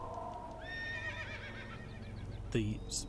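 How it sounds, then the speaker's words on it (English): Horses in the video game The Lost Crown let out distressed, unhappy whinnies over a steady low in-game hum, with a louder, sharper neigh near the end. "Some horses that sound extremely unhappy, despite not really having a problem here."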